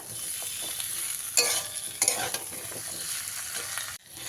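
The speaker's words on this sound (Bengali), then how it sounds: "কুমড়োটা দিয়ে খুব ভালো করে মিশিয়ে নেব" Fried pumpkin is stirred into a sizzling pan, the frying hiss running steadily while two louder spoon scrapes and clatters stand out before the sound cuts briefly near the end.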